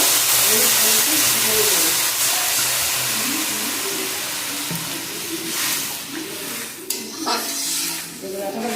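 Water is poured into fried vegetables in a pan for a thin shrimp curry. A steady splashing pour runs for several seconds, then fades into hissing steam and light clatter near the end.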